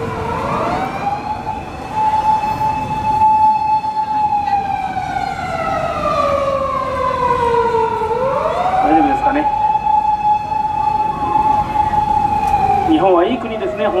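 An ambulance siren wails loudly and close, its pitch sliding down and back up as the vehicle passes, with traffic rumble underneath.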